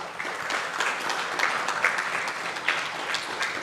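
Listeners at a Hindi Ramayana discourse clap together, a moderate, steady patter of many hands with scattered sharper claps, continuing at an even level throughout.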